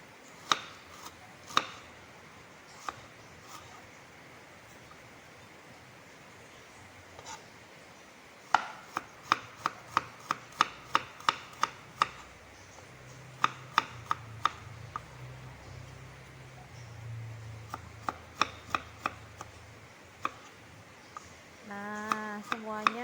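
A knife chops shallots and garlic into small pieces on a cutting board. Sharp taps come singly, then in quick rhythmic bursts, over a faint background, with a brief low murmur partway through.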